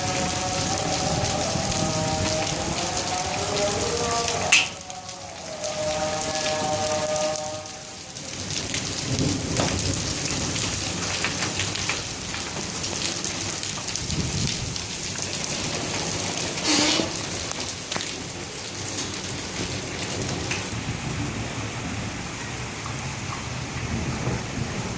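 Heavy rain pounds down in Rawalpindi during a thunderstorm, a loud, steady hiss that fills the whole stretch, with rolls of thunder, a few sharp cracks, and some faint background voices.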